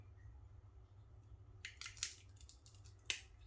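Pruning shears snip through a rose stem to take a cutting, a few quick close crisp cuts in a quiet room after a moment of near silence.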